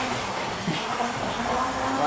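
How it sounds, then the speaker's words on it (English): An OO gauge model train runs along its track during a high-speed test, giving a continuous close whirring rumble with a hiss that swells slightly toward the end. "Today it's just been testing how fast these trains can move, hence why it's called a high-speed test."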